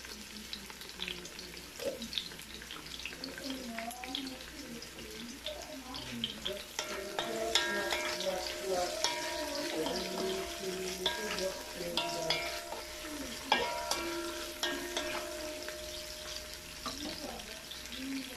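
Onions frying and being stirred in a pan while cooking salmon sinigang sa miso: steady close sizzle with scraping stir strokes throughout, the crackle growing busier in the second half, no talk.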